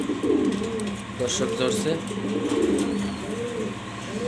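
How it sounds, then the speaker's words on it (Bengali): A male racer pigeon of Andalusian colour coos in soft, rolling bursts close by, while someone speaks briefly over it. "অ্যান্ডালুজিয়ান কালার একটা রেসার কবুতর"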